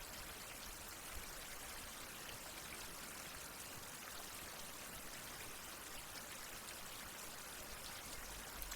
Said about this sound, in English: it's staying as a steady downpour through the full day